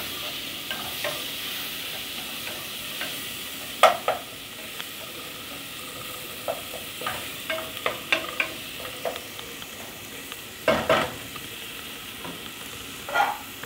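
Tomato, onion and green chili sauté in a pan, with a steady low sizzle and irregular scrapes and knocks of a spoon stirring them, some sharper clacks standing out, and no voices.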